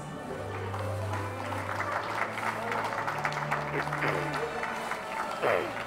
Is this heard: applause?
yes